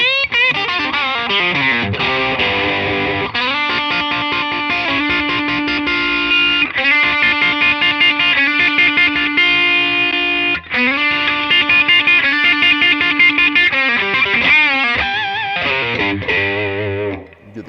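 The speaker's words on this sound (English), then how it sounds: "Here's with it coil tap." A 2014 Gibson Les Paul Standard electric guitar played through heavy distortion with the coil-tapped pickup selected, loud sustained chords ringing with brief breaks between phrases.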